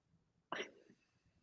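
A single sharp sneeze bursts out of near silence, brief and close, trailing off quickly.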